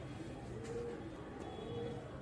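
A Fakir Gul pigeon on a rooftop terrace coos softly in low, drawn-out notes, repeated twice over a quiet, steady background hum.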